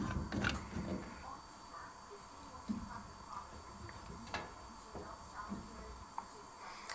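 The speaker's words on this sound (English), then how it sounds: "once I've got the thread right, just screw it on" An air vent is screwed by hand onto a Vaillant 242 combination boiler, giving faint, close creaks and small metallic ticks in an uneven rhythm over a quiet background hiss.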